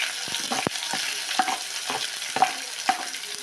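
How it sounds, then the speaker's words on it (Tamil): Onions frying in oil with mustard seeds and urad dal for a kurma, a dense close sizzle with several sharp utensil taps and stirring scrapes spaced through it, no voices. "கடுகு உளுத்தம்பருப்பு போட்டுக்கிறோம். கடுகு பொரிஞ்சிச்சு. வெங்காயம் போட்டுக்கிறோம்."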